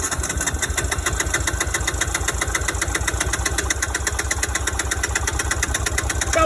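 A motorcycle engine runs with the choke pulled, a steady rapid mechanical chugging that holds an even idle throughout, close and fairly loud, with no talk over it.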